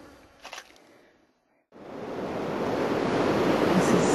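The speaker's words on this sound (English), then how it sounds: "Looking at the Indian Ocean" Steady, loud surf of the Indian Ocean just south of Kalbarri, a broad continuous roar of waves rising in after a brief quiet gap, with a little wind noise and a faint voice at the start.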